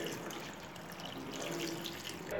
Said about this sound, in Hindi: हल्का सा ठंडा पानी डाल देंगे